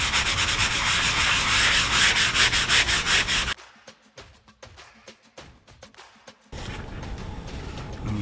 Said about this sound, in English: This is a sanding sponge, but it's been used. You can also use a regular sponge, and it's wet. And we're just gonna do a light sand.